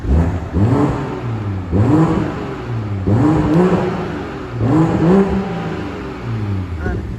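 A close, throaty engine of a BMW G21 M340i xDrive Touring estate, warmed up, revs up and drops back several times in a steady rhythm, each rise and fall clearly audible.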